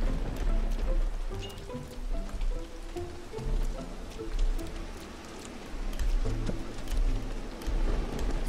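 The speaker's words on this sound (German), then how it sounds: "Und wir springen durch den Regen." Steady rain in the platform video game Teslagrad, a continuous patter of drops spread under game music, holding at an even level throughout with slight swells.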